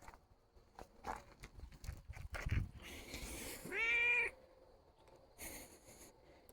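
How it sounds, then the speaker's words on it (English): A cat gives one clear, drawn-out meow near the microphone, preceded by soft rustling and shuffling sounds, with no talking. "The cat has decided to visit."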